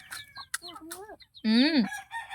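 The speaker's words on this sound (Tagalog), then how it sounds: "Na mga chicken lawgan ni Ayla." A rooster crows loudly and close on a farm, one strong call in the second half, with other chickens clucking and calling around it before that.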